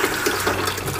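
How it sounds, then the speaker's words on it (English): Water pours out through three holes in a bucket sluice concentrator as sand is fed in, a steady close splashing and trickling flow with no talk. "I've got three holes down here where the water's coming out of the bucket."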